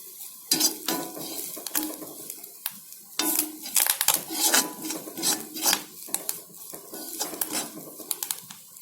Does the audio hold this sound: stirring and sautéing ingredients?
yes